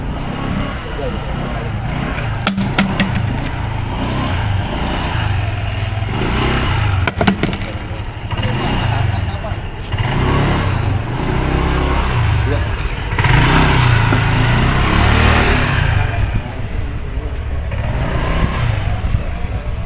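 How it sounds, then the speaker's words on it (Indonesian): A Honda Vario automatic scooter weaves a zigzag course during a driving licence practical test, its engine humming steadily and rising in a few throttle swells, with someone talking over it throughout. "proses zigzag di motornya menggunakan motor Matic Honda Vario"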